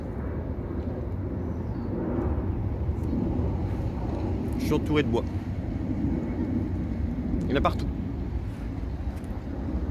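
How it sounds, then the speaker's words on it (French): A jet airplane taking off at Nice airport near Saint-Laurent-du-Var, a steady distant roar under wind noise along the shore, while someone talks over it. "il y a un avion qui décolle là"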